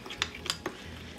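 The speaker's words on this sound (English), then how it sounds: "And you stir until you get out all the lumps and bumps and all that powder stuff" Spoon stirring thick chocolate cookie batter mixed with water in a small bowl, three quick clinking scrapes against the side spaced evenly, close and quiet with no voice.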